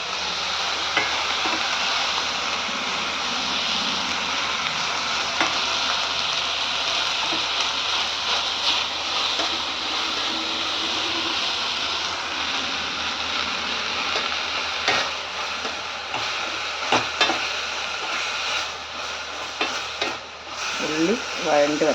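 Onions with salt and turmeric sautéing in a pan for an egg roast, a loud, steady close sizzle and hiss with occasional stirring scrapes, going on unbroken for over twenty seconds.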